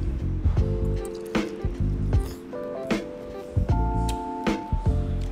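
Juicy bakso meatball of ground beef, tapioca flour and salt, tennis-ball sized in broth, bitten into and chewed with soft wet squishes and drips, close up over faint clinks and background bustle, with no talk.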